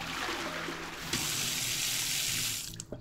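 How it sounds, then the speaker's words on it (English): Sink tap in the hospital management game Hospitalize running water in a steady hiss, getting brighter and fuller about a second in, then cutting off near the end. "The water's still running."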